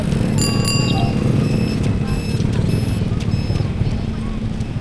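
A bicycle bell rings in several bright, quick dings over the hum of riding, with people talking in the background.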